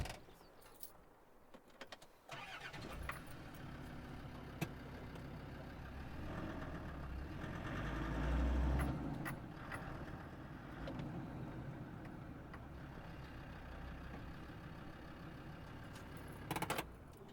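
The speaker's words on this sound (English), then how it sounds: "Now let's spin the Defender around and show you the other side." A diesel 1998 Land Rover Defender 110 idles and is moved around, its engine a low steady rumble that swells midway as it is driven, then settles, with a brief mechanical clunk near the end.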